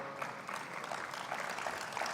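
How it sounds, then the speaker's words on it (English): An audience at a conference plenary session applauds a panelist, giving steady, continuous clapping from a crowd that is fairly loud and even throughout, with no voices heard above it. "folks a round of applause."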